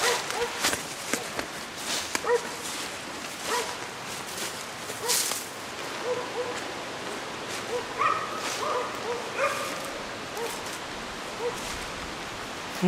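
A dog barks in scattered, fairly distant bursts at an abandoned coal-mining camp, with footsteps and outdoor background noise around it.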